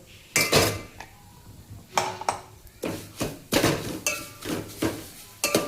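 A spoon clanks and scrapes against a metal pan in uneven bursts while vermicelli, grated coconut and cardamom roast in homemade ghee, with short quiet gaps between the knocks.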